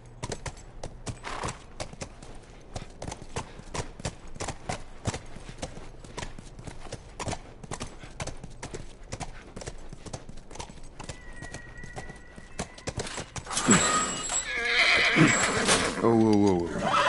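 Horse hooves clip-clop in a steady rhythm through most of the passage in The Last of Us video game, with a loud whinnying neigh bursting out near the end over a swelling background.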